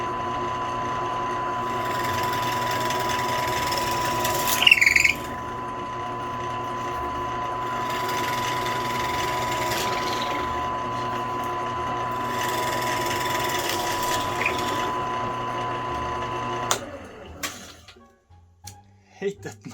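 A WEN 4212T 10-inch variable speed drill press runs steadily with a droning motor hum while it drills a hole, with a brief louder squeal near the middle before the motor winds down and stops near the end.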